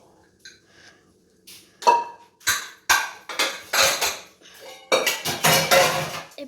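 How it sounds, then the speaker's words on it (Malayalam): Pots, a pressure cooker and metal utensils clatter and clink in a home kitchen while rice is being readied, a series of sharp, close knocks and scrapes that grow busier and louder toward the end. "കുക്കറൊക്കെ എടുത്തോണ്ട് പോട്ടെ അരി വെക്കാനായിട്ട്"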